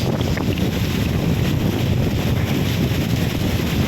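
Heavy rain pours down outdoors along the walk from Dela Rosa to Paseo, a loud, dense, unbroken wash of noise with wind-like roar and no voices.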